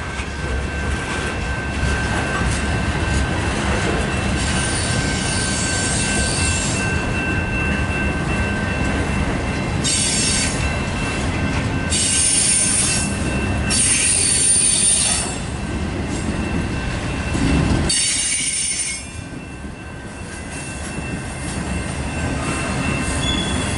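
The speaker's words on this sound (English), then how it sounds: "This is a manifest train. Got different cars on it." A long CN manifest freight train with auto rack cars rolls past close by, a continuous heavy rumble with wheel squeal and rhythmic clatter, easing off toward the end.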